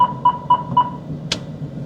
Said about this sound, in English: What you hear is rear collision warning.